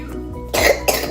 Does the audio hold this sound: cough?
yes